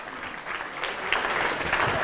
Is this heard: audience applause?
yes